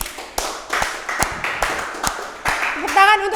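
Hand clapping in a casual conversation, a series of sharp, unevenly spaced claps about half a second apart, with people talking in between.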